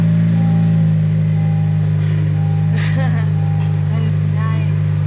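A Honda Civic idles steadily with a newly fitted Invidia N1 exhaust, a loud, constant low engine drone close up, while people talk over it.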